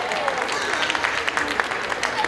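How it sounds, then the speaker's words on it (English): An audience at a city New Year's Eve 2012 celebration applauds in a dense, even wash of clapping with some crowd noise mixed in. "Give yourselves a round of applause"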